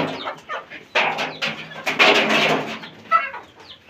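Chickens, including Chini and Misri roosters, cluck close by in a series of short, throaty bursts, several birds overlapping in a busy, uneven rhythm.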